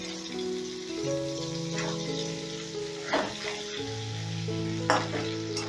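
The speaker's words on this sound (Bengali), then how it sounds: "এবার আলুটাকে লাল লাল করে ভেজে নেব" Salted, turmeric-dusted potatoes fry in fish-frying oil with a continuous close sizzle and crackle, broken by a few brighter spatters as pieces are stirred; a low musical tone hums underneath.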